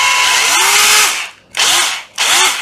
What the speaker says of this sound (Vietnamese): bây giờ là chế độ khoan này, khoan thương này